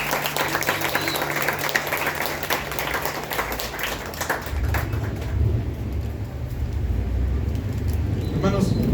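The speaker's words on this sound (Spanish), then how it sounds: "Un aplauso al Señor." Church congregation applauding in praise, a dense steady wash of clapping mixed with crowd voices and low rumble, continuing through the whole stretch at even loudness.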